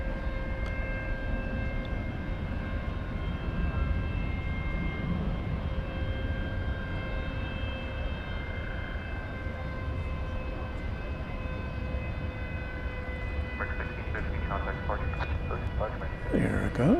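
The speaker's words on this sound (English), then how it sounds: "I'm going to watch for the Qatar cargo plane going out to Liège." A Qatar Boeing 777 freighter departing Dallas Fort Worth airport for Liège, a steady distant jet roar with a sustained engine drone that holds throughout, and a voice talking over it now and then.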